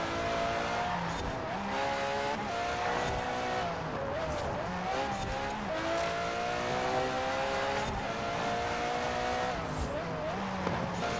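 An Aston Martin Vulcan race car in Forza Horizon 4 screams at high revs, its engine rising and shifting through gears in a steady loud wail, with tires squealing through fast corners.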